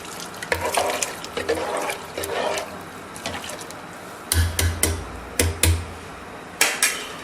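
Water runs and splashes in bursts into a metal pressure cooker holding dal and chicken, with clattering pulses toward the end as the contents are stirred.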